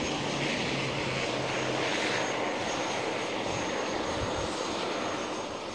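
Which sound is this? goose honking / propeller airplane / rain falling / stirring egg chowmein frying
propeller airplane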